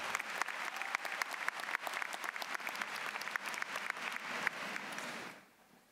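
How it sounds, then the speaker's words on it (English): An audience at a 2019 Thomas Dale High School graduation applauds its top 20 graduates, with crisp individual claps standing out in steady, moderately distant clapping that fades away after about five seconds. "Let's give our top 20 graduates another round of applause as they return to their seats."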